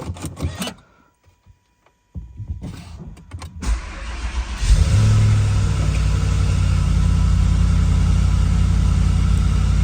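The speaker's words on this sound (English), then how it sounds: "The only thing left to do is start the car." After a few clicks and a brief quiet, a Volvo S80 V8 engine cranks and catches after new spark plugs and filters, then settles into a steady, close idle that runs to the end.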